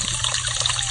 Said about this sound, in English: If you need to refill water, we'll have to go refill.